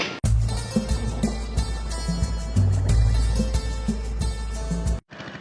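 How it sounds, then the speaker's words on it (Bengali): A boat crossing the Shitalakshya river, with a steady low engine drone and rumble running throughout, loud and close, before cutting off abruptly near the end. "নৌকায় করে শীতলক্ষা নদী পার হচ্ছে"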